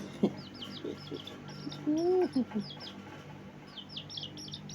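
A small bird gives a few scattered high chirps near the start and end, while a low voice-like call or murmur sounds briefly in the middle over quiet background noise.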